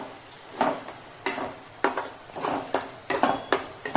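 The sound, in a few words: stirring pasta with Schezwan sauce in a pan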